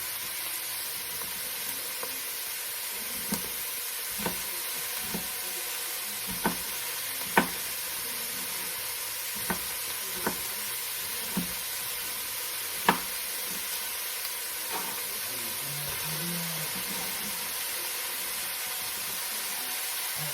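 Green pepper sizzling in a pan for red beans and rice, a loud continuous hiss of frying with occasional sharp clicks of stirring, no voices.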